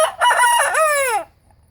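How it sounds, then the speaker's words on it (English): A rooster crows once, loud and near: a single drawn-out cock-a-doodle-doo that rises, holds, then falls away into quiet. "He's doing some extra crowing for you."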